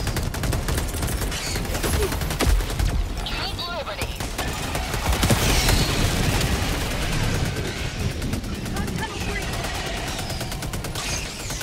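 Machine gun sentry firing in Helldivers 2, dense continuous bursts of automatic gunfire mixed with other shots and impacts, loud and sustained across the clip, with speech faintly under the barrage.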